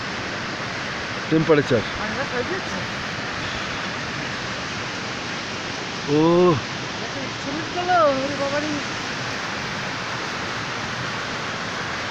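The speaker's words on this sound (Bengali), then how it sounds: "ঝর্ণাটা তো নিচ্ছি, অফুরন্ত জল পড়ছে" A waterfall in Lachung, Sikkim, on a bitterly cold day sends down an endless torrent with a steady, unbroken roar close by. A few short bursts of talk are heard over it.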